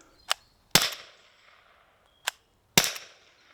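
Home defence gun (HDR.68, 16 joules) firing spikes through a chronograph: two pairs of sharp cracks, each a quieter snap followed by a louder report with a short ringing tail, close and clear with no talk.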